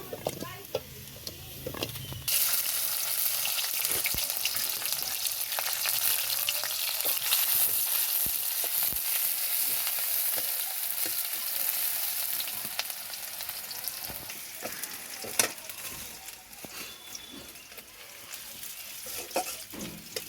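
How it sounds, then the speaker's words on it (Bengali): Onions fry in a pan with oil for a rohu fish curry, a steady close sizzle that starts abruptly and holds for the whole stretch, with occasional clicks and stirring, no talk. "পেঁয়াজটা ভাজা হয়ে গেল"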